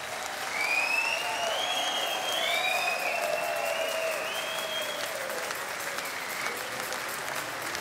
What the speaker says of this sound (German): Dann sollten Sie das mal mit Ihrem Applaus bekunden.